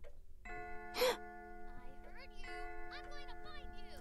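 In the PSVR horror game Intruders: Hide and Seek, a clock chimes with sustained, ringing tones. A sharp breathy burst cuts in briefly, and a person talks over the chime.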